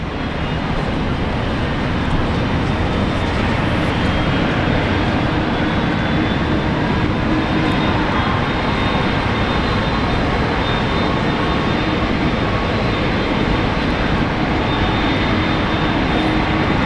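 Velocity airliner rolling for takeoff on runway 19 left at Brisbane Airport, a loud, steady engine roar that holds without a break for the whole stretch, with no voices.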